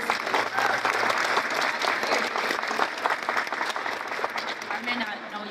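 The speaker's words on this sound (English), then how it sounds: "Clap it up, guys." An audience at a university rally applauds in a steady, sustained wave of clapping, with crowd noise mixed in, fairly loud throughout.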